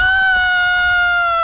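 A human voice imitating a chicken, one loud, sustained squawking call that holds nearly level for over a second.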